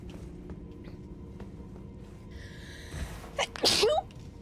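A person sneezes once, a short sharp burst near the end, over low background rumble in a quiet indoor room.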